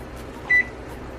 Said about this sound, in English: And there goes the timer for the pigeon peas